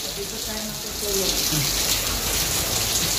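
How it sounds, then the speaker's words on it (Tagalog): Steady heavy rain hissing down during a storm in Bacolod, Philippines, growing a little louder partway through, with some faint indistinct sounds underneath. "May ulan pa rin dito. May bagyo dito sa Bacolod."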